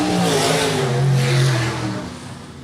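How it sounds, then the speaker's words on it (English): An oval-track race car engine roars loudly and steadily, its pitch rising and then falling away as it passes, with no voices over it. "You can hear every now and again Kenny Gose gets the hammer down very hard on that motor car."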